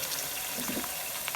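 Tomatoes go into light-brown onions in a pan while cooking daal mash, giving a soft, steady sizzling hiss that stays faint and continuous throughout.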